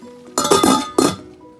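Metal cookware clinks as kippers are shifted around inside a Saladmaster pot: two or three bright, ringing knocks close by, each decaying quickly into a quiet room, with no talk.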